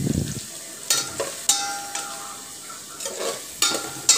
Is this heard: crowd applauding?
no